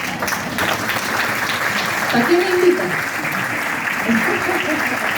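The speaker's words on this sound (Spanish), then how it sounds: "Un aplauso por tener el discurso." Audience applause for a speaker at a university talk in Chile, steady clapping that fills the whole stretch, with a voice speaking over it.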